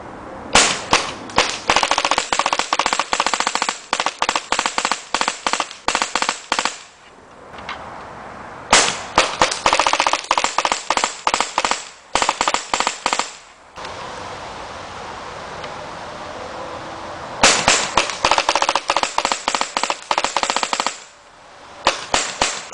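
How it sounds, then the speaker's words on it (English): A modded Tippmann A5 paintball marker set to 3-round burst fires outdoors in long strings of sharp, rapid pops, close and loud, broken by a few short quiet gaps. "As a 3-round burst."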